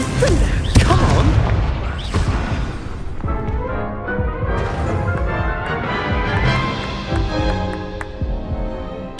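Confringo and Incendio spell blasts in Hogwarts Legacy on PS5, a run of booming, crackling impacts with fiery rumble that fade into ringing game sound, with no talk over them.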